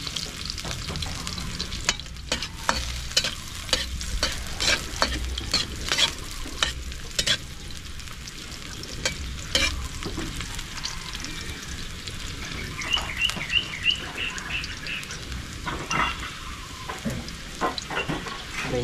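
Chopped garlic sizzles in hot oil in a pan while a spoon stirs and scrapes it around, a loud continuous frying hiss broken by repeated clinks and scrapes.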